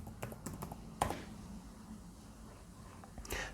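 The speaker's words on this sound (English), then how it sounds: "If I type in my company name," A company name being typed on a computer keyboard, several quick close key taps at the start, one sharper press, then quiet room tone and a last soft tap.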